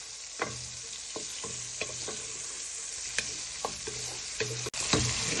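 Sausages frying in a pan for a sausage and thyme ragu, with a steady broadband sizzle broken by sharp spatters and utensil taps at irregular intervals, close and fairly loud, no voices.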